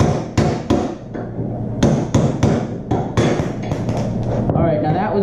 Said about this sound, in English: we're gonna beat it with the hammer until it pops out